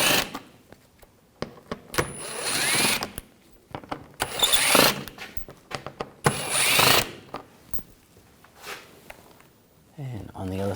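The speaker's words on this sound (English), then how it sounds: "I'm going to remove this panel, take these screws out, use a T25 socket." A power tool fitted with a T25 socket backs out panel screws on a 2011-2018 Volkswagen Jetta TDI wagon, giving three loud whirring bursts of a second or so each, with clicks and handling noise between them and speech at the end.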